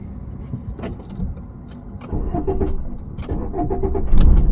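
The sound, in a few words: car engine being started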